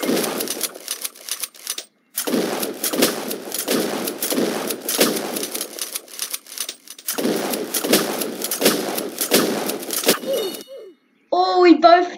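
Shotgun and pistol fire in a one-on-one mobile versus PC video game match, rapid bursts of sharp shots in long runs broken by short pauses, loud and close with a voice talking at times.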